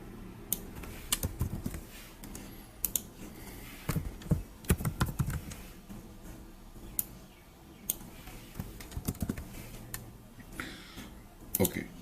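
Keys clatter in irregular bursts of sharp clicks as someone types on a computer keyboard while working in an Excel spreadsheet, close and moderately loud, with brief pauses between runs of keystrokes.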